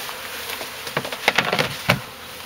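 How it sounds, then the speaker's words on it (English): A swarm of honey bees piled up during a hive relocation, a steady close buzzing with a few louder passes of individual bees flying near. "This is what you got, a pile of bees."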